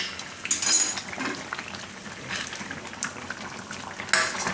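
Palak pakoda curry gravy boils in a pan, giving irregular bubbling bursts and soft liquid gurgles at moderate volume, with a few faint clinks of a utensil and no speech.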